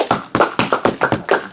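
Applause from a small audience at a self-improvement coaching session, heard as a short burst of brisk, close hand claps in uneven bursts, with no talking over it.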